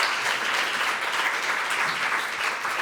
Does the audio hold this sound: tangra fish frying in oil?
no